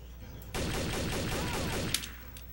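Rapid gunfire from an online traitor-hunting video game, a dense burst of shots lasting about one and a half seconds, then a single louder crack as it cuts off.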